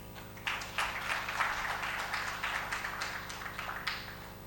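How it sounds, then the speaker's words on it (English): An audience applauds two guest speakers, Mr. Ashok Kumar and Mr. Rajesh Agarwal, at the inauguration of a Delhi cyber security congress. The clapping is fairly faint and steady, with a low electrical hum underneath, and lasts the whole stretch. "can we have a great round of applause, please?"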